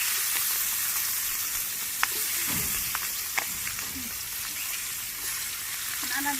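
Meat fries in hot oil in a pan in a village kitchen, a steady close sizzle with a few sharp spatula knocks and a short stirring scrape, and a faint voice briefly under it.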